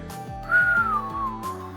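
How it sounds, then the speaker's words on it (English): A remote-controlled robot whistles a short sliding tone in the video game Trails into Reverie, rising then gently falling over a rhythmic stepping background music bed, moderately loud and clear. "Hey, I actually whistled."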